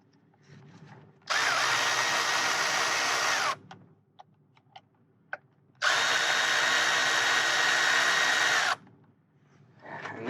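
A power tool tightens a bolt on a Toyota Camry rear disc brake, in two sustained loud whirring bursts separated by a pause filled with small clicks and handling noises.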